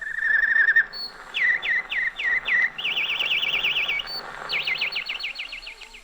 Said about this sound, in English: One sound that always reminded me of home was the canary bird